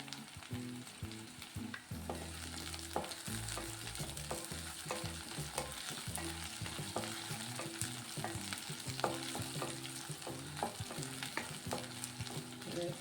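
Cabbage, potato and peas curry frying in a pan, a continuous crackling sizzle with repeated stirring scrapes and clinks of a utensil, close and steady.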